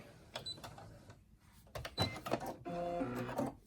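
A Brother SE1900 sewing machine running at a raised speed setting, a quiet mechanical stitching whir with rhythmic ticks that grows steadier and busier toward the end.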